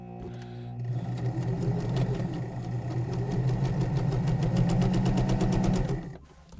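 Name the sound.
sewing machine rewinding a bobbin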